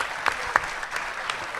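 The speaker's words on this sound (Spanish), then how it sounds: "Un aplauso para Nico, que está acá en la mesa y no lo presentamos." An audience at a political event at the Vallese claps in a short burst of applause, with a few sharp, close claps standing out over the steady patter of the crowd.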